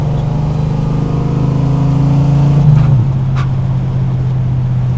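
A 1969 Dodge Charger driving by hand-aligned wheels: a loud, close, steady engine drone that shifts down in pitch partway through as the car changes speed.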